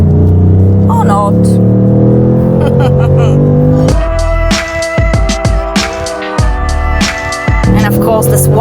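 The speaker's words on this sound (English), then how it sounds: "naturally aspirated 5-litre V8 engine" A Ford Mustang Bullitt's naturally aspirated 5-litre V8 rumbles loudly, then is revved hard in several sharp bursts that rise and drop back, close and dominant throughout.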